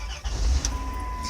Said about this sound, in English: But if I crank the car up,